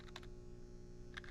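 Brief keystrokes on a Dell PC keyboard typing a search, a couple of short clusters of clicks at the start and end over a steady low electrical hum.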